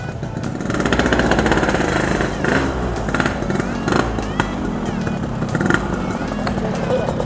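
Four modified two-stroke motorcycles, including a Yamaha RX-King, F1ZR and Serpico, run together with a raspy, buzzing engine drone and occasional revs, loud and continuous throughout.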